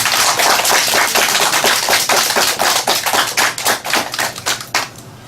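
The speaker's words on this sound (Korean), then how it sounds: "우리 박수로 함께 환영하시죠." A church congregation claps in welcome during a Korean worship service, loud close-packed applause that thins into separate, distinct claps toward the end.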